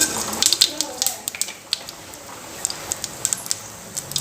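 Rapid, irregular crackling and popping throughout as mustard seeds splutter in hot oil for sambar, fairly close with a soft sizzle underneath.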